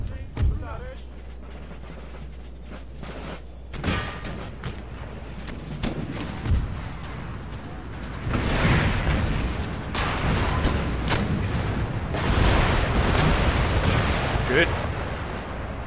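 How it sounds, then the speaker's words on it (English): Artillery bombardment in Empire Total War, with booming cannon shots at intervals building into a denser, louder barrage of battle noise as a voice speaks briefly over it. "Start the bombardment."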